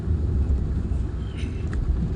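A vehicle descends the steep, dangerous Kallatty ghat road in second gear, its engine giving a steady, close low rumble throughout with faint higher whines drifting over it.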